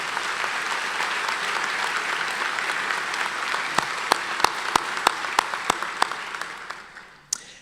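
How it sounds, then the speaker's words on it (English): An audience at a University of Iowa College of Pharmacy commencement claps in a dense burst that gradually thins out, leaving a few distinct, separate claps before it dies away. "Could we give a round of applause for Carolyn and Anna as well?"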